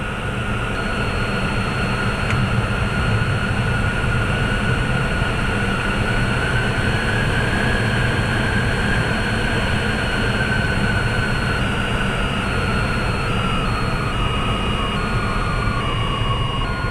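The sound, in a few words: plane landing without its landing gear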